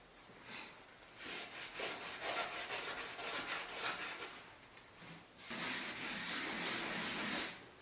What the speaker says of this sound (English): Okay, so I finished scrubbing